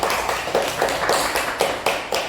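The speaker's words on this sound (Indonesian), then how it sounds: "tepuk tangan untuk kawan-kawan" A short burst of applause in a classroom after a group presentation, a few people clapping in quick pulses with a rhythmic pattern, close and fairly loud.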